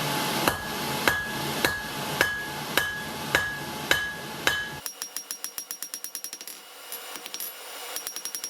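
Hot steel being hammered flat at a forge to shape a hook tip: ringing hammer blows land about every half second, then give way to a quicker, lighter run of metallic taps, close and loud.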